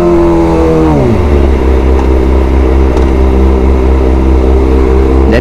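A Kawasaki ZX25R four-cylinder motorcycle roars up close while being ridden, its engine pitch dropping sharply as it shifts or eases off, then holding a loud, steady drone.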